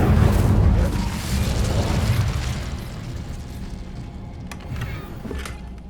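An Incendio fire spell bursts in Hogwarts Legacy with a loud, heavy whoosh and rumble that starts strong, then slowly fades into a softer roar with faint crackles near the end.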